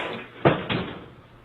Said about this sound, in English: He kicked in this dead-bolted door in less than 20 seconds.